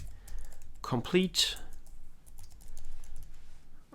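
Computer keyboard typing runs steadily under a voice, the key clicks continuous and close throughout while he talks over them.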